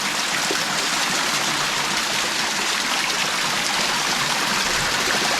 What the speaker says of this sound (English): So the little hot spring here feeds through to this bottom pool